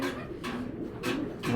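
Racing pigeon of a very light colour cooing in a few soft, low bursts, close by and fairly quiet, with no voices.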